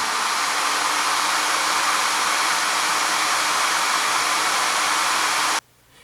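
An AIRSEE GD3 nail dust collector runs on its medium fan setting, giving a loud, steady airy whoosh like a hair dryer that holds constant up close and then cuts off abruptly near the end.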